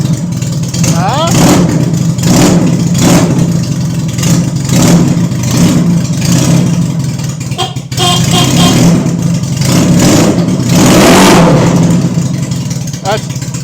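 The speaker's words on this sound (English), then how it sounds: "That's a mean scooter." A Cushman Road King scooter's small engine runs cold after starting, revving in repeated surges over a steady low idle, loud and close with people talking over it.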